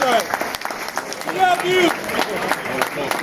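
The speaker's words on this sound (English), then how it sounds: "Please give a round of applause for that." Audience at a Salesian basketball Hall of Fame speech gives a round of applause, a muffled, moderately loud wash of clapping mixed with crowd murmur, whistles and a few voices.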